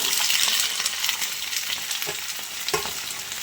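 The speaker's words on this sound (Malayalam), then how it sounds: "നമ്മുടെ അരിഞ്ഞ് വെച്ചിരിക്കുന്ന പച്ചക്കറികളൊക്കെ നമുക്ക് ഇട്ട് കൊടുക്കാം" Chopped vegetables frying in hot coconut oil with curry leaves for avial, a steady loud sizzle with occasional stirring clicks, close to the pan and uninterrupted by speech.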